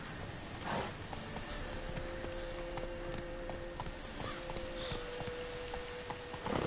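Roach, a horse in the video game The Witcher 3, galloping at a fast, even clip-clop of hooves, steady and close over a soft ambient bed, with no voices.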